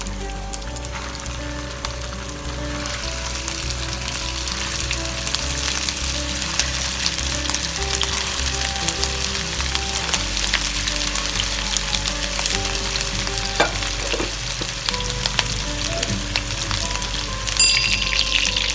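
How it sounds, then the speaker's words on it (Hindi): Minced-meat masala kebabs shallow fry in oil in a karahi, a dense, continuous crackling sizzle that holds steady and close throughout, with no voices. "अब मैं इसे बहुत ही अच्छा सा गोल्डन कलर आने तक शैलो फ्राई करेंगे सब हम"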